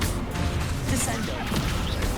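A Descendo spell slam in Hogwarts Legacy, played on PS5, gives a loud crashing impact with a whoosh amid busy combat noise, short and forceful.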